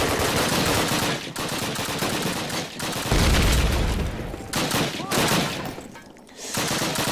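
Automatic and rifle gunfire in the World War II shooter Call of Duty, Warsaw tank factory level: loud bursts of rapid shots and booms separated by brief pauses, close and harsh, with a heavy low thump near the middle.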